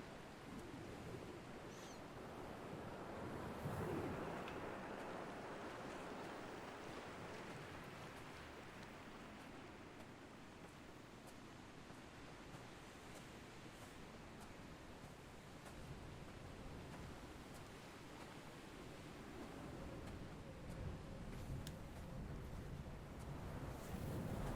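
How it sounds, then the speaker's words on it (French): Gusty wind blows by the sea in the video game Dear Esther, a continuous broadband rush of wind with waves beneath, swelling and easing over about twenty-five seconds; steady and fairly faint, no voices. "Il y a de la bourrasque"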